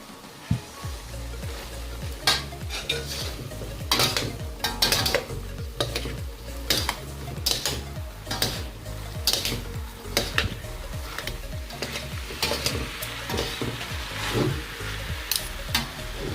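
Carrots stir-fried in a pan for pancit bihon with soy sauce, a soft sizzle under repeated scraping and clinking strokes of a utensil against the pan in an uneven rhythm, close and without talk.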